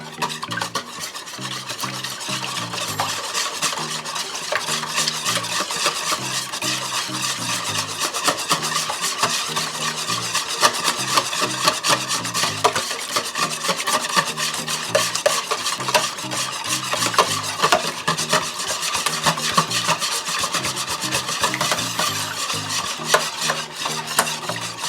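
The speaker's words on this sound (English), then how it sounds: "I'm gonna mix these together." Apple fritter ingredients with vegetable oil are mixed in a bowl. A continuous close scraping and stirring rasp runs without pause at a steady level for the whole stretch, with no voice.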